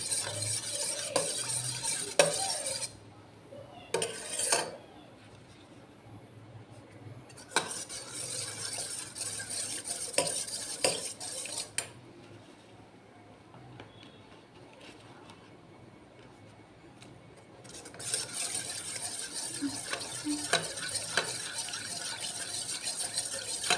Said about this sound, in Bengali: এই কর্নফ্লাওয়ারটা আমি স্যুপের ঘনত্ব বাড়ানোর জন্যে কর্নফ্লাওয়ারটা এই গরম জলে গুলে নেব